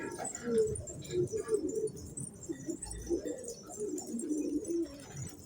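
Young, newly hatched pigeons coo in a loft, low soft calls rising and falling in a loose, continuous murmur close by with faint rustling.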